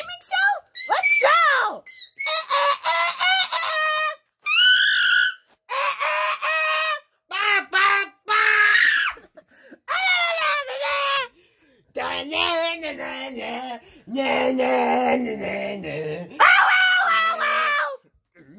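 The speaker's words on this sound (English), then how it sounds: "Oh, you wanna do a screaming show?" Children scream and shriek in a string of loud, close bursts broken by short silences, with high, wavering pitches and some squawk-like yelps, in a playful school-themed scene.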